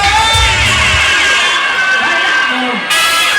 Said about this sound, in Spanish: Escúchalo. Ese grito.